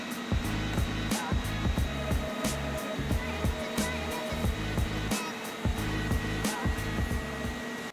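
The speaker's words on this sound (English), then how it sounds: "we're ready to fully weld it with our TIG welder" TIG welder fusing a steel exhaust manifold assembly at around 90 to 130 amps, giving a steady electric buzz with fast, regular pulsing crackles throughout, loud and close with no talking.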